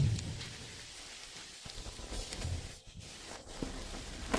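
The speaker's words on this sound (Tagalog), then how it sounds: "Napakalakas ng ulan." Heavy rain pours down steadily in a dense, hissing wash with scattered louder drops. A low rumble sits faintly beneath.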